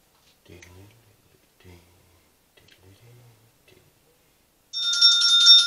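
Mobile phone ringtone breaks in loudly after a stretch of quiet, with a bright, repeating electronic melody. Soft speech and small clicks come before it.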